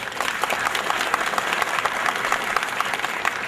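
Audience at a dormitory opening ceremony in Manavgat gives a warm, steady round of applause, dense and even throughout with a faint crowd murmur beneath.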